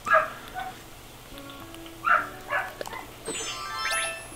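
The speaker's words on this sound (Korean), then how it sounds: "옆집 순심이 강아지가 짖고 있네요" An Animal Crossing dog villager barks in a handful of short, bright yips spaced a second or two apart, followed by soft chiming game tones near the end.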